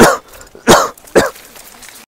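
A man in a Marathi comedy sketch coughs three times in a row, harsh, throaty and close, each burst separated by short pauses.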